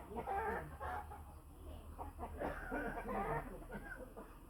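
Chickens clucking outdoors in a rural home setting, a busy run of repeated clucks and calls close by, fairly faint and continuous over soft background noise.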